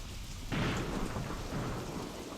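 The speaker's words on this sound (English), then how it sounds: "Of course, with all the rain" Heavy rain pours down in a World War II artillery video game, a dense hiss that swells abruptly after a quiet start and then holds steady and loud.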